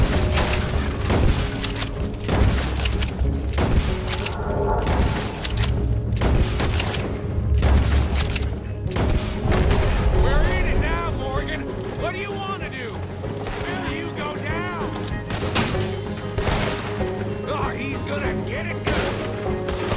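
Dense gunfire in the Red Dead Redemption 2 video game, rapid overlapping rifle and pistol shots with booms through a chaotic shootout, with voices shouting over the battle.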